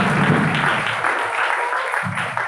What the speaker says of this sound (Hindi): आप सब मिलकर ताली बजाकर इस बेटी को आशीर्वाद।